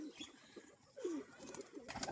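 A bali pigeon among a flock of feeding Rajshahi pigeons gives a single low coo near the middle, set against faint chirping and a flurry of movement toward the end.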